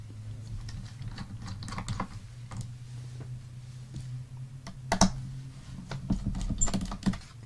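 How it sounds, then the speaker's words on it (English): Small Torx T5 screwdriver backing tiny screws out of a MacBook Pro A1502 laptop case, giving faint scattered clicks and light metallic ticks over a steady low hum, with no talking. "To open up my MacBook Pro here, I need a T5, a Torx 5 screwdriver. So let's take out the screws."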